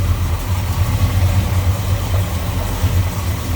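A 1970 Chevrolet Chevelle's 396 V8 with a 4-barrel carb and headers idles smoothly and steadily, a loud, close, low rumble with an even pulse throughout.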